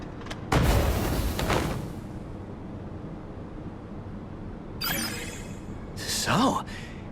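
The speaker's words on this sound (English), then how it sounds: "good thing I went for an explosion" A booming explosion erupts in the Shadowverse Worlds Beyond video game, a sharp loud blast that fades out, followed later by two shorter whooshing bursts over a quiet background.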